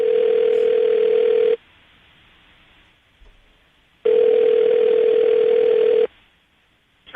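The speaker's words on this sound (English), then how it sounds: "I'm going to dial the phone number right now" A loud, steady telephone dial tone plays in two long blocks of about a second and a half and two seconds, with quiet gaps between them, before a number is dialed.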